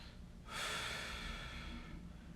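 A single deep inhale through the nose during a lying back and thoracic spine mobility stretch, a soft airy breath starting after a short pause and drawn out steadily, close and quiet, with no speech.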